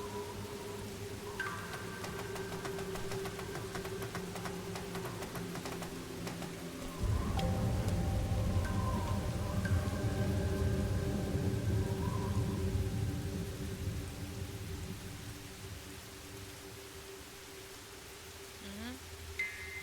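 Steady rain falling in the video game Master Detective Archives: Rain Code, a constant wash that swells into a heavier low rumble midway, set under background music tones.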